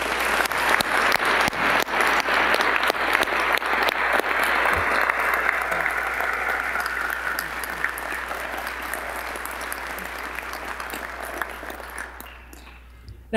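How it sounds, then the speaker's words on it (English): Convocation audience at a college of osteopathic medicine applauding new faculty members, a long, full round of dense clapping that holds strong, then slowly thins and fades over about thirteen seconds. "Let's have a round of applause for our newest faculty members."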